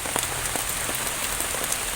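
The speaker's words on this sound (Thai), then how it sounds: "นี่ตอนนี้ฝนกำลังมาแล้วนะครับ พี่น้องได้ยินเสียงไหมครับ" Heavy rain falling at a jungle campsite, a dense, steady hiss of drops hitting surfaces with no letup and no voices.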